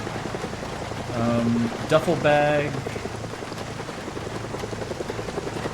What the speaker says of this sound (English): I think we have a helicopter inbound